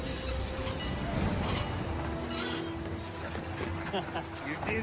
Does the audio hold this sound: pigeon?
no